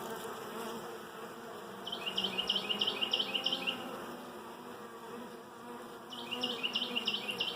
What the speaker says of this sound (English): So this one's got a lot of bees on it.